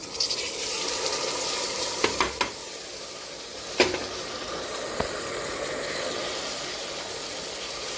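Moong dal and wheat rava being stirred into sautéed vegetables in a pan for upma, a steady close sizzle with scraping stir strokes and a few sharp utensil knocks, no voices.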